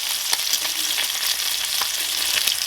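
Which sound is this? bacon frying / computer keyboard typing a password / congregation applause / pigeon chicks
bacon frying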